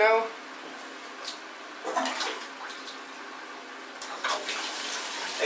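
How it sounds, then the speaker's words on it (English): Tap water runs over a Honda D16 valve cover as it gets rinsed, a steady close hiss of spray with brief splashy surges as the part is moved under the stream. "I'm going to go ahead and throw it under the water right now."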